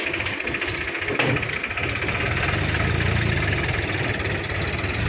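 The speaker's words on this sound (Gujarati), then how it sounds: "હા ભાઈ ઉતાર લે ટ્રેક્ટર" A tractor stuck in a cotton field idles with a steady, continuous low engine chug close by, holding an even level throughout.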